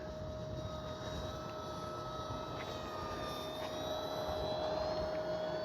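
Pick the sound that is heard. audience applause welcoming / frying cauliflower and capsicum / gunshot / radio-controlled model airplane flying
radio-controlled model airplane flying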